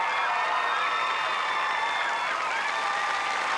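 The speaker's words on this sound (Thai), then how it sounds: "ขอเสียงกองเชียร์หน่อยครับ" Party supporters cheer and applaud as a steady, dense crowd roar in a TV studio at a Thai election debate, loud and continuous with whoops throughout.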